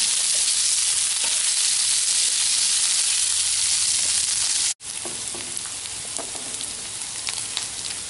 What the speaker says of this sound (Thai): ใส่น้ำมันใส่หมูสองชั้นเข้าไปครับคั่วหมูสองชั้นก่อนนะครับ